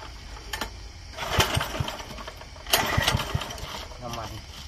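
A Robin 4-stroke 5 hp gasoline engine with a reduction shaft sputters as it starts, then runs in uneven chugging pulses nearby while people talk.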